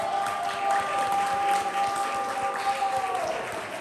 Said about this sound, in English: Applaud the poets.